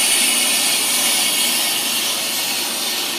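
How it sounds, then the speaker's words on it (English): Steady, loud metallic whirring and hiss of a brake lathe cutting a brake rotor, continuous and unchanging throughout. "usually cutting brake rotors doesn't take as long as it does to cut brake drums"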